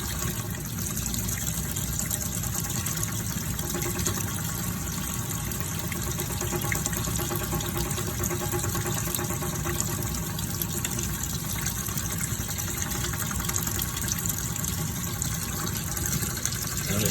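Tap water runs in a steady, loud gush while a paint roller is rinsed under the faucet, a constant broadband splashing flow with no pauses.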